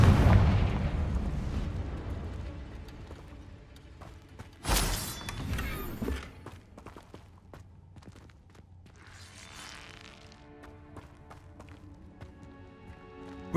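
In the video game Hogwarts Legacy, a Confringo fire spell blasts with a loud, sharp explosive burst that fades into crackling rumble, followed by quieter magical shimmering and ambient game sounds.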